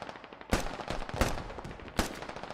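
Gunfire in the military shooter Squad: a run of sharp shots, with three louder cracks standing out among quicker, softer bursts, during an infantry fight in a compound; moderately distant, with no voices.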